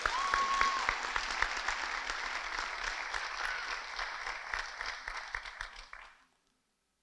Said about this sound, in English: So please, again, one more round of applause for all of them.